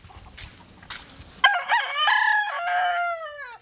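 A rooster crows loudly and close by in a chicken coop, one long drawn-out cock-a-doodle-doo that rises and then trails away, after a stretch of scratchy background noise and soft rustling.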